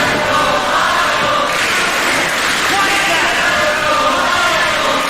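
A live professional wrestling crowd roars and yells in a dense, sustained wall of noise, loud and constant with no gaps.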